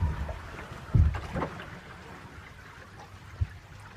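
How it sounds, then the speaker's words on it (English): A sailboat runs along at 8 knots, and water rushes and slaps faintly against the hull in uneven surges, with one stronger splash near the start and a brief knock toward the end. "Here we are sailing along at 8 knots, Wayne."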